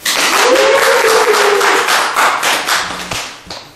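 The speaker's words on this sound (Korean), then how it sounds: "우리 한번 박수로 환영해 주십시오" Audience applause welcoming a lecturer at a lecture hall session, a dense, steady burst of many hands clapping close by that fades out toward the end.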